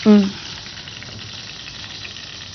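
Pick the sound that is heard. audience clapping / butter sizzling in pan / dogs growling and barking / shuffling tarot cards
butter sizzling in pan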